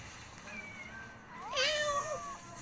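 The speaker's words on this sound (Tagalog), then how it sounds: "Labot kang pusa ka." A cat gives a couple of drawn-out, wavering meows, the first softer and the second louder and rising, close by against quiet background hiss.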